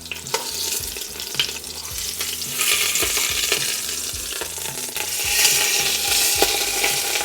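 Beef browns over medium heat in a pot for beef mami, a steady close sizzle with periodic stirring scrapes and clinks, growing a little louder toward the end.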